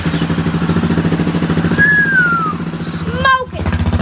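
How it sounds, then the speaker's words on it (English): A 250 motocross bike engine runs at a loud, steady idle with a rapid pulsing thrum close by, then blips briefly near the end. "I want you to rate the sound of all three bikes we have. Starting with the 250."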